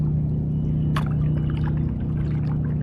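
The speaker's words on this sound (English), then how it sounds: "we got some of those waves coming from that big boat" Wake waves from a large boat slosh and lap against the hull of a small boat on high water, a close, continuous watery splashing with one brief sharper slap near the start.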